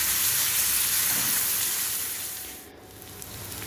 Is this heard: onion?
yes